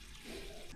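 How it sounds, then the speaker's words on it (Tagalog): Water runs slowly and steadily from a tap, a soft, even hiss that is faint and close, with no voices over it. "Medyo mabagal yung tubig eh."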